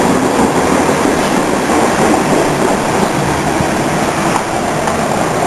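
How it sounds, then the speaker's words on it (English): A city train passes close by, its loud, steady rolling roar and rail noise filling the scene without a break, with no voices over it. "we say goodbye to the city train"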